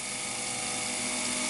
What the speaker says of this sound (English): I just want to get it spotted now